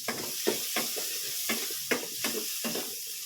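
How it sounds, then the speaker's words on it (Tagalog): Garlic, onion and chili sauté in a pan, a soft sizzle broken by a regular series of scraping stirs, about every half second. "Ginisa ko ang bawang sibuyas, sili."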